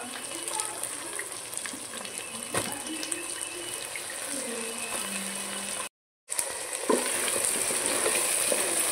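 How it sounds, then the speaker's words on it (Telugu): Steady sizzling of eggplant frying in a pan, with occasional stirring scrapes and a brief dropout partway through. "వంకాయ కూడా కొంచెం ఫ్రై అయ్యేదాకా ఇలా వేసేసుకున్నాం"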